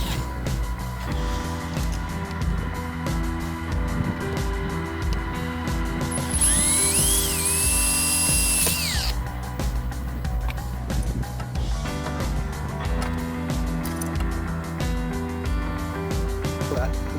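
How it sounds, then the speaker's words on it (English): A power drill fitted with a pilot bit bores down through the first piece of material while a roof top tent is being installed, a short high whining burst heard over a steady low engine-like hum, with a person talking around it. "we're going to use a pilot shaft to drill down"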